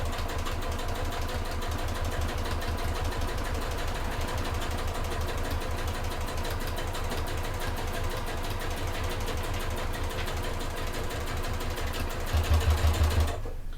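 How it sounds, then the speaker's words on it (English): Sewing machine stitching a fold-over clutch bag, running steadily and close with a dense rapid needle rhythm throughout, getting slightly louder near the end before stopping. "just drop the actual presser foot down and carry on stitching."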